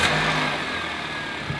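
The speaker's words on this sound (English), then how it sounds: "Sometimes it takes the extra pressure of the engine spinning, the engine getting hot, to make the leak show." A Toyota car engine runs at a steady, fairly loud idle with a constant hum and no voices.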